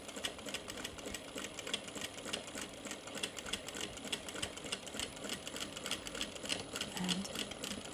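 A sewing machine stitches a tote bag in a continuous, even, rapid rattling run at moderate volume, with no voices.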